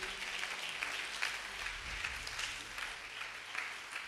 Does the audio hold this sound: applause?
yes